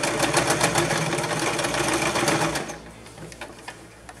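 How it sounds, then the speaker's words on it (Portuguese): A sewing machine stitches a seam on a fabric eco bag, running loud and steady for about two and a half seconds before stopping, leaving faint handling noise. "E a gente vai passar a costura aqui."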